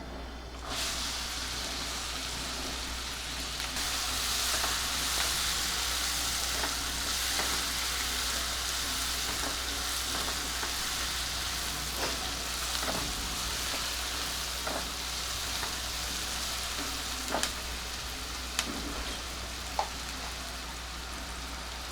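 Two finely chopped onions hit a pan on medium heat and fry with a dense, even sizzle resembling steady rain, broken by occasional clicks and scrapes of stirring.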